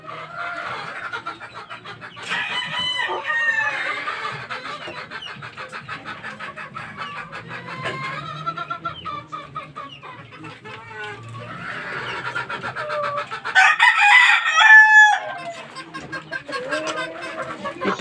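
Several fighting-breed chickens, including hens, cluck and squawk continuously at close range, with a rooster's crow rising midway and a louder burst of crowing and cackling near the end.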